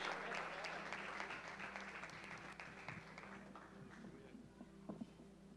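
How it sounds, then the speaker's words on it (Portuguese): Church congregation applauds during a ceremony where names are called out, a soft, distant wash of clapping that slowly fades, with faint room noise and a few sharper taps near the end. "aplauda Jesus, gente"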